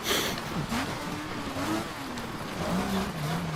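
A rally car's engine drones and revs continuously in the racing game DiRT 2, its pitch rising and falling with gear changes, loud and steady with road and wind noise throughout.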